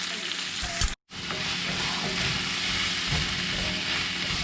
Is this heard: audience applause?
no